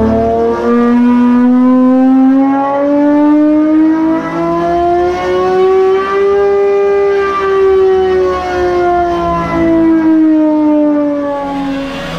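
A Gordon Murray T50 road car's V12 engine sings loudly and continuously, its pitch climbing high toward a 12,100 RPM redline and then easing back down, with no one speaking.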